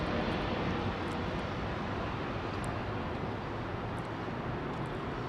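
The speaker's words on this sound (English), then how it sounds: "Even though that's a D-rated departure, it's still pretty spectacular, isn't it?" Jet airliner on a derated departure from London Heathrow runway 09R, a steady broad roar of engines, fairly faint and distant, holding even throughout with no voices.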